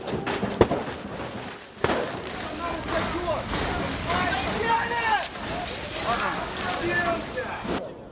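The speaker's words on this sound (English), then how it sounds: "The protesters are shooting fireworks now towards the police." Fireworks fired by protesters toward police at barricades during the Euromaidan unrest: sharp pops and a crackling burst over a steady roar of crowd noise and wind, with voices shouting and talking throughout.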